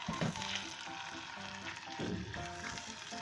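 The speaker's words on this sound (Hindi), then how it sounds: "अब हम इसमें साग डाल रहे हैं" Mustard greens frying in a pan for sarson ka saag with a steady close sizzle and occasional stirring, no voices.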